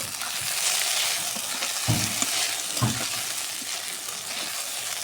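Okra frying in a pan, a continuous bright sizzle of hot oil with a couple of soft stirring knocks, close and steady throughout.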